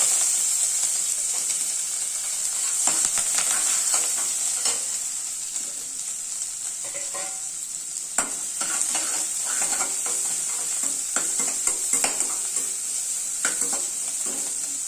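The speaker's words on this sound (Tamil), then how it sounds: "ஒரு கால் ஸ்பூன் கடுகு வெடிக்குது" Mustard seeds splutter in hot oil with cumin and fennel, a constant sizzle broken by frequent sharp crackles and pops, close and fairly loud, with no talking.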